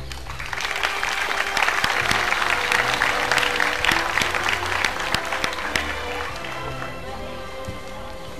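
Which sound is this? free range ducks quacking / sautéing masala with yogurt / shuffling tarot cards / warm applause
warm applause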